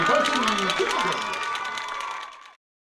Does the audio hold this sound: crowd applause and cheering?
yes